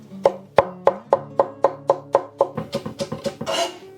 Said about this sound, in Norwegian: Så skjærer vi opp resten